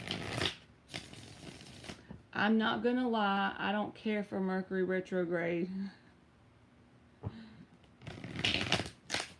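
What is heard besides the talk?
shuffling a deck of tarot cards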